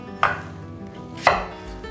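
Two firm knife strokes chop an onion on a cutting board, close and loud, about a second apart, each landing with a solid thud.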